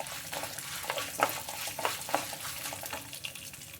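Six dried Byadgi red chillies fry in oil for a ridge gourd chutney, giving a soft, steady sizzle with a few louder scrapes as they are stirred in the pan.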